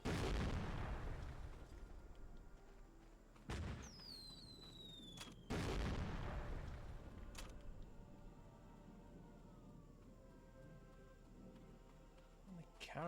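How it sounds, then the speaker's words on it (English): Explosions from the video game Medal of Honor: Frontline go off as several heavy booms spread over about thirteen seconds, each blast followed by a long rumbling decay, with a shrill whistling streak and scattered cracks between them. "Setting off these fireworks."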